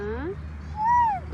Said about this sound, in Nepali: बिरालोसँग रमाउँदै छिन् सानो।